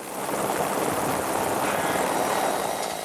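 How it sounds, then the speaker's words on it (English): A video game helicopter drones steadily overhead, its rotor and engine noise filling the air at a constant, loud level with no pauses. "His crew handles helicopter drop cement like they were born to it."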